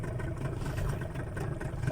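A Yamaha 15 outboard boat engine runs with a faint, uneven mid-pitched drone as it is throttled down, steady with no voices over it.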